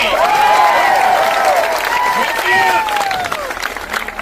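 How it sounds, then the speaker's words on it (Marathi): A crowd at a protest rally over teacher exam issues breaks into loud, sustained applause mixed with cheering and shouting voices, dense and close, fading slightly toward the end. "जोरात टाळ्या वाजून इथून टाकून द्या"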